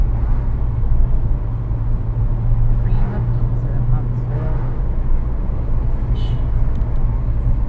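Car driving on a road, a steady low engine and road rumble inside the cabin running throughout, with faint passing traffic and a brief higher tone late on.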